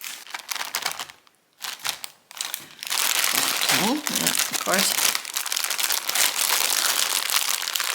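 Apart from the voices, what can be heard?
opening a crinkly package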